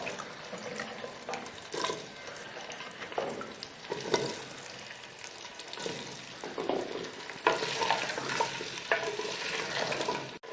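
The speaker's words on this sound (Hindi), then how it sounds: "आलू भी साथ में भून जाएंगे और लहसुन अदरक भी साथ ही भून जाएगा" Potatoes fry with garlic and ginger in a pan for an aloo qorma, a continuous soft sizzle with periodic scraping stirs, close and fairly quiet, with no talking.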